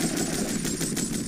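Rapid automatic gunfire in the video game GTA Vice City, a dense continuous burst of shots filling the whole moment with no talking.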